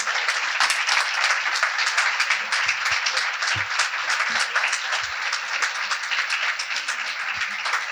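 A lecture audience at a cultural event on art and Borges in Argentina gives loud, sustained applause, a thick continuous crackle of many hands clapping with no talk over it.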